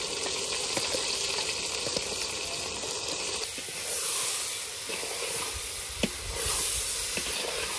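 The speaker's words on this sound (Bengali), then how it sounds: "চালটা ভালো করে কষে নি অনেকক্ষণ ধরে কষাই" A soft hiss comes from a pot as uncooked rice grains are stir-fried, stirred and scraped, with occasional sharper knocks of the spoon, quiet and close.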